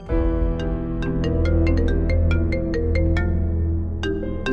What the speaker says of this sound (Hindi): फोन आ रहा है, उठाओ